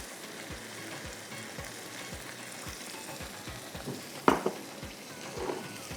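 Carrots fry in a pan with ginger and butter for methi gajar sabzi, a steady soft sizzle with a few light scrapes and one sharp clink of a utensil against the pan.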